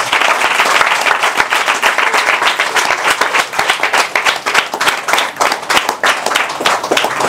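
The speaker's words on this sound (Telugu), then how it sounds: "Give the claps to the lord Jesus." Church congregation at a Sunday sermon clapping for the Lord Jesus: loud, dense, sustained applause from many hands throughout, with crisp individual claps standing out and no talk over it.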